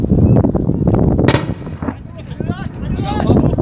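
Heavy gunfire and explosive blasts during mountain combat against militants in the Hamrin mountains, with rocket fire, loud and near, in dense repeated bursts. A sharp crack stands out mid-way, and voices shout over the noise.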